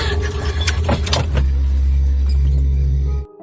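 A car engine cranks and turns over steadily without catching, loud and close, with keys jangling at first, before cutting off abruptly into near silence.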